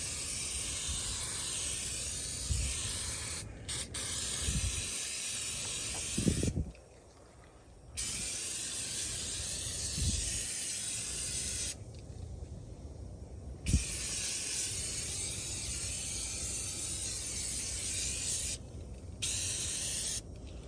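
Cleaner sprayed over a Toyota Tacoma engine bay, a steady broadband hiss in long continuous bursts broken by a few short pauses, with faint mechanical clicks underneath.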